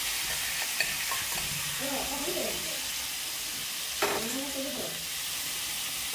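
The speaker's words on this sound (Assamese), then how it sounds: "এইয়া কচুখিনি ইয়াত দি মই ভাজি ল'ম" Taro leaves with cumin and coriander powder fry and get stirred in a pan, a steady close sizzle with spoon scrapes and a couple of sharper clatters, no talk.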